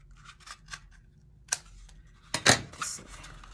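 Scissors snip through paper while a palm-leaf craft is cut out, a few quiet crisp clicks followed by a louder sharp cut near the end, heard alone in a quiet room.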